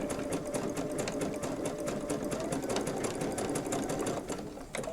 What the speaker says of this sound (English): Just a simple zigzag to close that up.